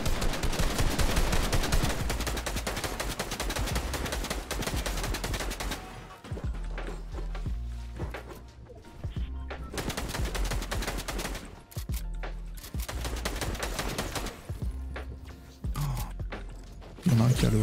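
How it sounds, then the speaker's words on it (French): SCAR assault rifle gunfire in Fortnite rattles in dense, rapid bursts, loud and nearly continuous, broken by short pauses, with players talking over the shooting. "Utilise la scar que t'as ramassée, elle tire plus vite."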